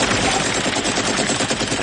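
Rapid machine-gun fire from a helicopter raking the water in Rambo: First Blood Part II, a loud dense burst of shots rattling continuously throughout, with no voices.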